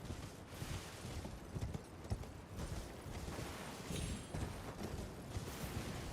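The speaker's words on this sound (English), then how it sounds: "Oh yeah, I've got a freaking horse." Spectral steed galloping in Elden Ring Shadow of the Erdtree, a steady run of dense, muffled hoofbeats kept up under a busy broadband game ambience, with no pauses.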